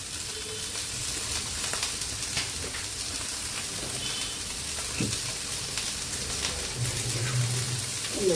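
Ground cumin and coriander frying in a pan for a rohu fish curry give a steady close sizzle, with occasional scraping and stirring clatter and no talking.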